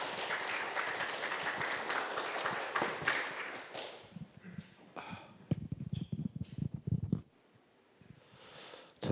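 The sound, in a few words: audience applause welcoming a speaker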